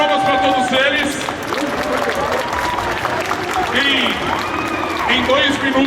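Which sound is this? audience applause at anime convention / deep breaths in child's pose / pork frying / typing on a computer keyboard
audience applause at anime convention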